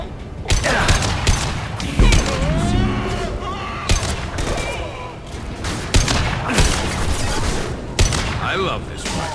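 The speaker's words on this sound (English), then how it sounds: "Nice shooting!" Gunfire bursts and explosive booms from the Mass Effect 2 video game, loud and repeated amid combat sounds, under shouted in-game dialogue.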